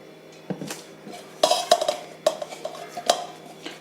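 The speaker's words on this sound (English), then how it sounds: "now I'm going to put some oil and grease this." Wheat momo dough in a bowl is greased with oil, bringing a series of close, sharp clinks and knocks of a utensil against the bowl, irregular and spaced, with no talking.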